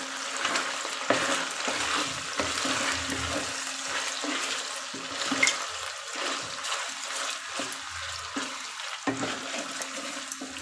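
Prawns sizzle in hot oil while a spoon stirs and scrapes through the pan, a steady close frying hiss broken by repeated clattering stirs throughout, with no talking.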